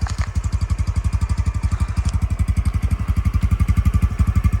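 A 2020 Honda CT125 fuel-injected scooter engine idles close by with a rapid, even putter that keeps a steady pulsing rhythm throughout.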